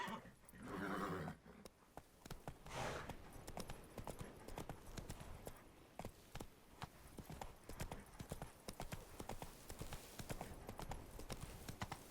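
Roach, a horse in The Witcher 3, gallops with rapid, continuous hoofbeats, close and steady, over a dense bed of game noise, with a snort or whinny-like burst near the start.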